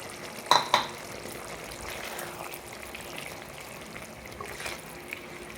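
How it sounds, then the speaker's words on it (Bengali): Fried prawns going into a bottle gourd curry in a pan, with a couple of sharp metallic clinks followed by soft stirring and a low simmering hiss, close and quiet. "এখন আমি যে মাছগুলো ভেজে রেখেছিলাম সেগুলো দিয়ে দেবো"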